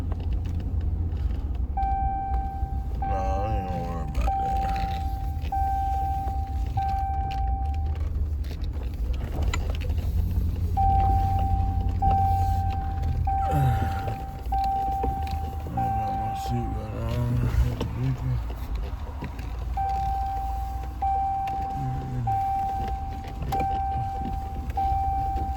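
Pickup truck cruising home, heard from inside the cab as a steady low road-and-engine rumble, with a repeating electronic chime that sounds in short bursts several times.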